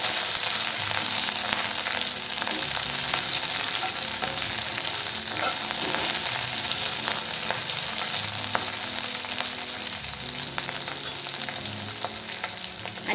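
Green chilies frying in a pan over a low gas flame give a loud, steady hiss and crackle with faint stirring ticks throughout, close up and with no voices.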